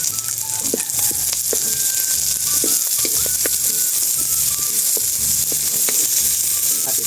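Garlic and onion sauté in hot oil, giving a steady, close sizzle and crackle with occasional stirring clinks throughout.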